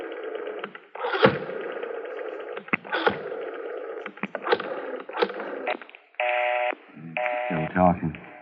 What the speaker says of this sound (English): Dial 9 to get outside, Garvey.